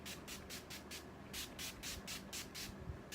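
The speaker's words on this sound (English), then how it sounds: "I'm going to spray my skin with Urban Decay All Nighter, sorry, setting spray" Urban Decay All Nighter setting spray misted onto a face, about a dozen quick, even pump bursts of soft hiss in steady rhythm, close and alone.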